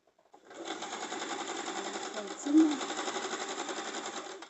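A sewing machine stitches a cigar pant in a steady close rapid whir of needle strokes lasting a few seconds, with a brief bump midway and no talk over it.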